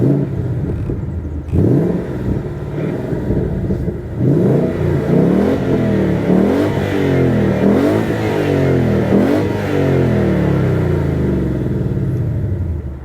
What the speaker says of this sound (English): You gotta love the sound of a V8.